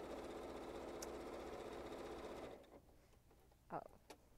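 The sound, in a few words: sewing machine stitching a reversible placemat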